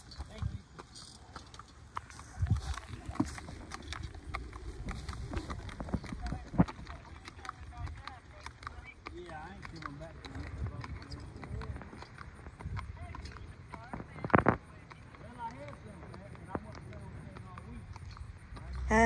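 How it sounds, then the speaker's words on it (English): Horse hooves clip-clop at a railway trackside in Bessemer City, North Carolina, a run of uneven close steps beneath people talking and moving nearby, with a louder thump near the middle. "Nice horse."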